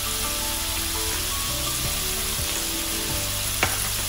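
Fish seasoned with salt, pepper and chilli flakes fries in a pan, giving a steady close sizzle with light crackles and a brief scrape near the end, no talking.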